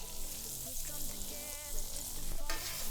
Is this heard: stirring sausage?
yes